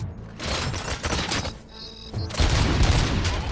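Gunfire in the video game RoboCop Rogue City, bursts of rapid shots and booms close and loud, separated by short lulls, with a heavier volley in the final second.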